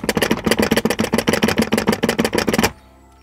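Loose spice jars rattle inside a moving VW Grand California camper van: a rapid, steady clatter of close, loud knocks for under three seconds before it cuts off abruptly into near silence.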